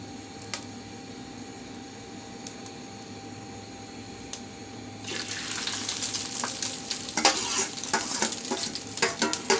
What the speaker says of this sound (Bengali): তেলটা গরম হয়ে গেছে আমি আর একটু নাড়াচাড়া করে দিচ্ছি